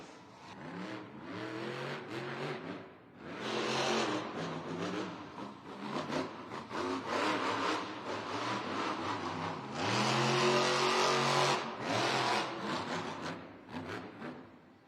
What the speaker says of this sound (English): A full throttle freestyle from Devin Winfield in Velociraptor